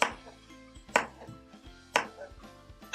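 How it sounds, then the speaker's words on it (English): A knife dicing jicama on a cutting board for a quinoa salad, with a few distinct chopping strikes spaced about a second apart over light background noise. "this also is going to be diced in a technique very similar to the onion. So it's just going to be sliced one way,"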